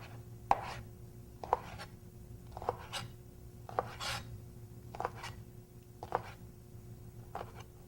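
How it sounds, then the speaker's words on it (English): A knife cuts lined-up strips of chicken breast into dice on a board, making about nine crisp, evenly spaced chops with soft scraping in between, quiet and close with no voices. "And then line them up and cut across into diced pieces."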